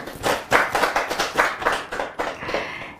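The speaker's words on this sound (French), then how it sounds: "On applaudit très fort" Studio audience clapping for a troupe of magicians on a Bamako television set, a dense burst of hand claps with uneven swells that fade slightly toward the end, heard alone without talk.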